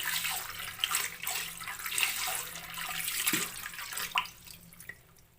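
Water splashes and runs steadily while ingredients are rinsed for juice preparation, a continuous close wash of sound with a few small plops, easing off near the end.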